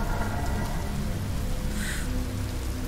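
Heavy downpour in a video game, a steady loud hiss of rain pattering on surfaces that fills the whole stretch with no voices.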